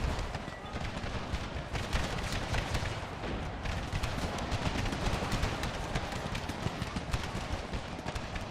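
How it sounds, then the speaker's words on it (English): Cannons lob explosive shells in a Civil War battle in Empire: Total War, fired amid a dense, continuous din of musket volleys and battlefield clatter that stays steady and fairly muffled throughout. "This cannon, go back to lobbing some explosive shells."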